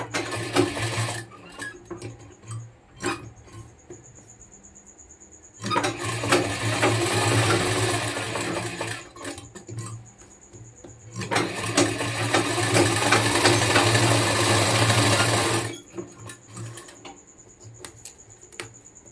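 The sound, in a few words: sewing machine stitching around a shirt collar point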